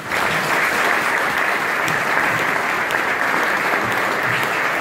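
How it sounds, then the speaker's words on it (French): Loud, dense audience applause at a civic ceremony for a new Jaguar Network headquarters, sustained evenly throughout without a break. "Je souhaite qu'on l'applaudisse."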